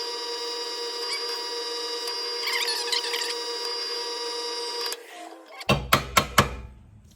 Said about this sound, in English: So let's take it over to the drill press.